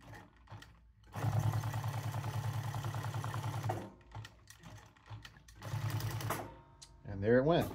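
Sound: sewing machine stitching leather patch onto hat

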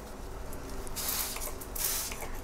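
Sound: spray bottle spraying plant leaves

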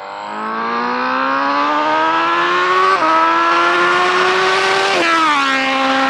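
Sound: superbike engine revving

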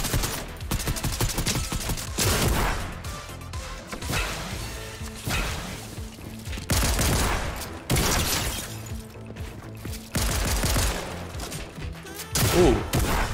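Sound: gunfire from a video game, Fortnite

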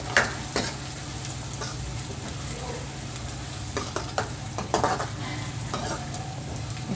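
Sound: chopped onions frying in pan until light brown

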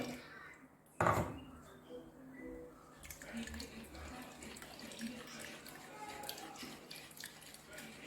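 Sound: pouring water and straining mixture

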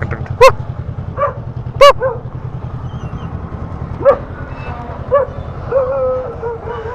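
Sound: dog barking

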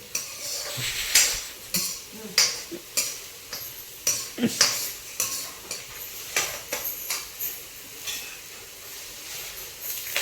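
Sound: curry leaves and chillies frying in a pan

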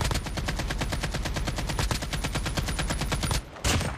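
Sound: silenced AK-47 gunfire in Call of Duty Mobile video game

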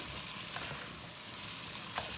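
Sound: peppers frying with tomato paste

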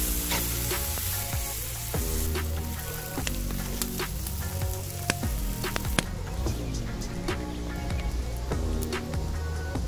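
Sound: food sizzling in a frying pan over a campfire

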